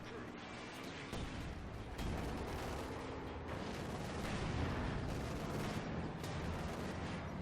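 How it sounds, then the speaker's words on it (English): Anti-tank gun firing in a Company of Heroes 2 battle, distant booms set in a dense, continuous wash of artillery and gunfire, with speech faintly mixed in. "nice hit from the AT gun"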